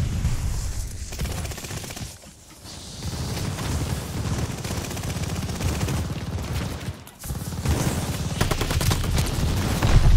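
MG42 machine gun fire in the Call of Duty Vanguard multiplayer game, loud sustained rapid bursts with short pauses and dense overlapping gunfire close up.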